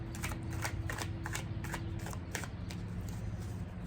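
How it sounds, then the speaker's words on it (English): Tarot cards riffled and slapped in a quick run of crisp, close strokes, a steady low hum running beneath, no voices. "I'll draw one card, and then we'll draw 4 other cards for those weeks"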